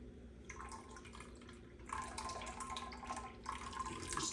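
Tap water runs steadily over fresh homemade mozzarella being rinsed, a continuous splashing stream that swells louder partway through and stays close.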